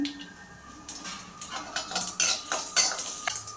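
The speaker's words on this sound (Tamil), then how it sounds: "சீரகம் சோம்பு சேர்த்துக்கோங்க" Cumin and fennel seeds added to a pan and stirred, producing a series of close metallic spoon clinks and scrapes that grow busier toward the end, with no talk.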